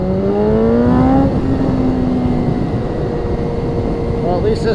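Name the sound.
engine of a 2020 BMW S1000RR motorcycle running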